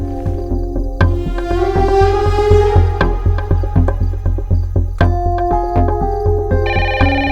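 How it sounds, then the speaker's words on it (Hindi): A phone ringtone plays loudly in a repeating electronic melody with a steady pulsing beat, no talking over it. "फोन क्यों नहीं पिक कर रहे हो? कब से बज रहा है?"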